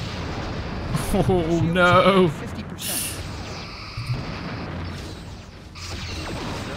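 Starship weapon fire and explosions in the Star Trek Ship Battles video game, a Sabre class against a Nebula class: booming blasts and a rising warbling energy shot, with a man's brief exclamation between them.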